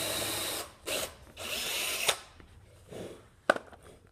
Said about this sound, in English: Then we're going to use a Dremel tool because this bit doesn't fit